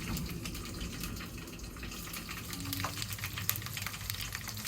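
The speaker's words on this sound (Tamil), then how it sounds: "இஞ்சி பூண்டு பிரவுன் கலர் வர வரைக்கும் நம்ம நல்லா கிண்ட போறோங்க" Ginger garlic paste frying in a pan for tomato rasam and being stirred, a steady low sizzle with scattered spoon scrapes, fairly quiet and with no talking.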